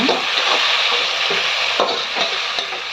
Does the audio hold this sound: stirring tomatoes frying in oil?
yes